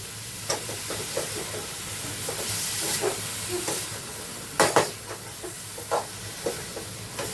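A spoon scrapes and clacks against a pan while dried bombil fish masala with three brinjals sizzles and hisses underneath, giving irregular close knocks over a steady frying hiss, with no voices.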